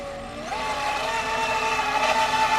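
A Feilun FT012 brushless RC speedboat's motor runs with a steady, close high-pitched whine that jumps up in pitch early on as the throttle opens, then holds strong and buzzing.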